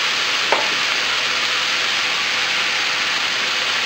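Soy sauce hits a hot pan of frying pork and liver, giving a loud, steady broadband sizzle that starts with a small splash and then hisses evenly, with no one talking.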